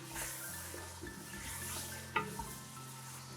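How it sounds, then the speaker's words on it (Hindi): Mutton searing and being stirred in a pot over high heat, a steady close sizzle with a sharp metallic clink of the spoon against the pan partway through. "तो ये एक टेक्निक है कि सबसे पहले गोश्त को तेज आंच पर भूना जाता है।"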